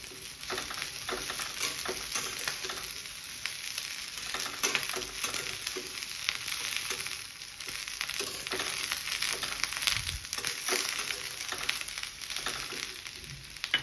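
Chopped capsicum and onion frying in a pan for a spicy chilli paneer, with a steady close sizzle broken by stirring scrapes and crackles throughout, no talking.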